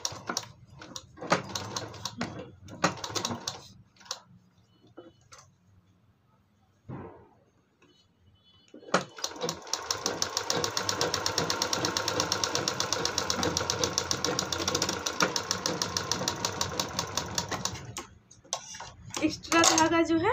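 A sewing machine stitches fabric for a latkan tassel, first in short stop-start bursts, then in a steady fast whirring run for several seconds, close by.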